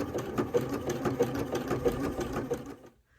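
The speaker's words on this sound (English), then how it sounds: "put your presser foot down and keep stitching" A sewing machine runs steadily through fabric, its rapid needle stitching pulsing in a close, even rhythm for nearly three seconds before stopping abruptly.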